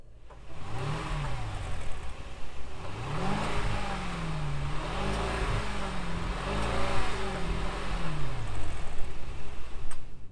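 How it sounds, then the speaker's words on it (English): A Mercedes-Maybach S 580 engine idles, then rises and falls through several strong revs in a row, loud and close, before climbing into steady acceleration toward the end. "And now we're gonna rev it out"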